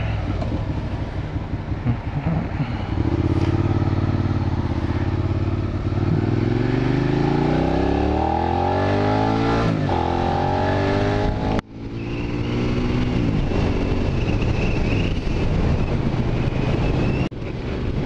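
A Suzuki SV650 motorcycle with an SP Tadao aftermarket exhaust revs and pulls away, its exhaust note rising and falling through gears with a sharp break midway, loud and close.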